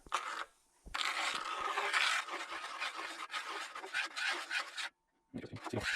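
A screwdriver stirs black plastic dye, making close raspy scraping and rubbing strokes in bursts, with two short pauses of near silence between them.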